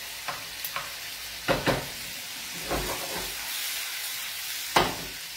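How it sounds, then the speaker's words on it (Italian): Cuttlefish cooking in white wine in a pan gives a soft, steady simmering sizzle, broken by a few separate stirring scrapes and utensil knocks, close by and moderately quiet. "mettiamo del vino bianco nelle seppie. Dobbiamo far cuocere, se no sono dire, facciamo cuocere le nostre seppie."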